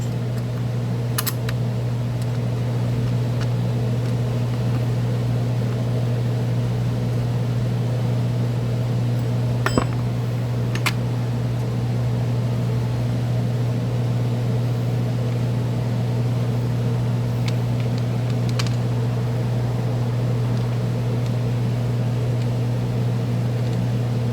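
An Echo PAS-225 string trimmer engine runs at a steady, droning idle nearby, a constant hum with a few faint clicks and knocks.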